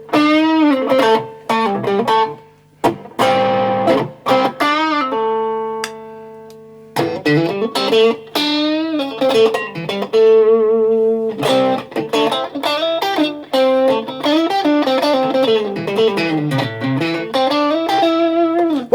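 Westone Spectrum electric guitar played through distortion, with loud single notes, bends and sustained tones in a rough buzzing lead line, pausing now and then.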